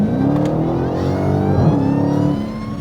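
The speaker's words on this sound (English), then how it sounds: "Oh, that whine of that supercharger and the roar coming out the back." A supercharged V8 engine revs up and holds a deep, throaty exhaust roar, with rising supercharger whine layered over the rumble.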